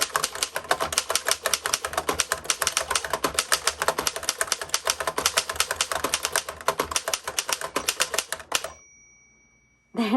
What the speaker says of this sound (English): That was actually really fun to type on.